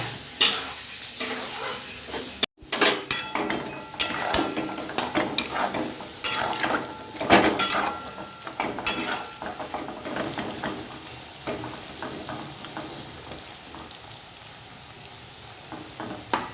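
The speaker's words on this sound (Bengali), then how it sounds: "ভালো করে আলুগুলোকে ভেজে নিতে হবে" Cut potatoes fry in a pan for a magur fish and gourd-tip dish, sizzling steadily while a utensil stirs and scrapes against the metal in bursts, loud and close, no talking.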